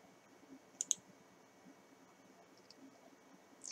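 A computer mouse clicks twice in quick succession, sharp and close in a quiet room, followed by a faint later tick and another click at the end.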